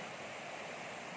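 River flowing past a coconut-planted farm lot in Real, Quezon near waterfalls, a steady broadband rush of water, continuous and fairly faint.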